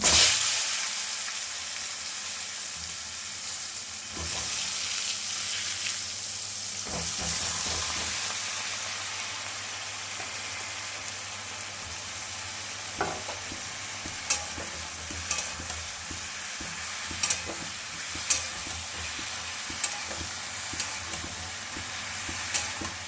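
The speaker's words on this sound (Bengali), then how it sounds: "তেল গরম হয়ে গেছে, এবার বেগুনগুলো দিয়ে দিচ্ছি।" Eggplant pieces fry in hot oil with a steady, close sizzle and hiss, broken by a few sharp clinks and scrapes of stirring toward the end, with no talking.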